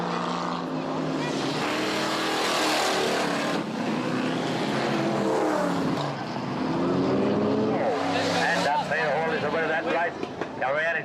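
Vintage race cars roar around a dusty desert track near an Australian opal-mining town, engines loud and continuous with rising and falling passes, while a narrator talks over the racing.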